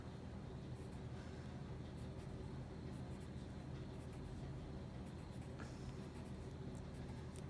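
A pencil scratches lines across paper while a 1-point perspective building is sketched, a very faint, soft, dry scraping over a quiet low background hum, with no talking.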